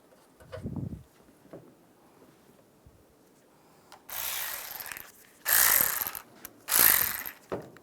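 A ratchet snugging the upper headlight bolts on a 2007-2013 Chevrolet Silverado: three short, close bursts of rapid clicking come after quiet fumbling.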